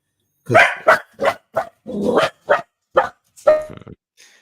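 A dog barks in a run of about eight sharp, loud barks close by, spaced roughly evenly over a few seconds, with no talking.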